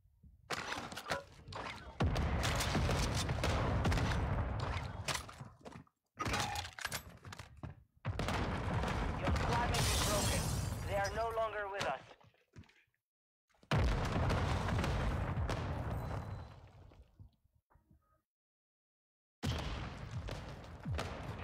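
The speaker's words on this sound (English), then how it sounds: "Mortar strike on the way." Mortar strike explosions rumble through a Warzone 2 match in long, loud, dense bursts of booming impacts. Brief silent gaps separate the bursts, and sharper crackling debris and whistling sounds mix into the barrage.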